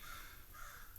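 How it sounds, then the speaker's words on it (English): A crow caws repeatedly outdoors, its harsh calls steady and fairly loud against a constant background hiss, with several birds seemingly going at it together. "I hear you, Crow."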